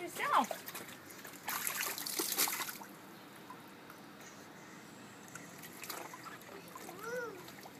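Water tipped out of a kiddie pool splashes and trickles in a loud burst that fades to a thin dribble, with a voice and an adult talking around it outdoors.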